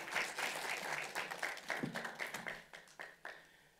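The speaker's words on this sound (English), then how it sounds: "Please give this panel a round of applause." An audience at a legislative committee hearing on infectious diseases gives a panel a round of applause, a faint, distant patter of many hands clapping steadily and then thinning out into a few last claps.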